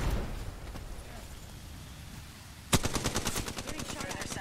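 Rapid automatic gunfire in the shooter game Apex Legends. It bursts in suddenly after a quieter stretch of game ambience and keeps firing in a fast, loud, even rhythm to the end.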